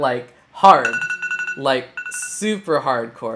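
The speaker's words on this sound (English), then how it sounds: "Sorry, that was my alarm." An electronic alarm goes off under a person's talk, sounding as short tonal beeps through the speech.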